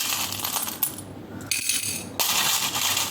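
Small tarot charms drop and scatter onto a surface during a card reading, giving a few clinking, rattling bursts separated by brief quiet gaps, close and clear, with no talking.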